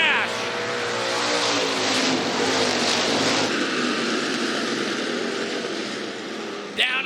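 Hobby stock race cars on the clay oval at Clay County Speedway roar past at a restart, a loud sustained engine drone that swells and shifts pitch, with a sharp burst near the end.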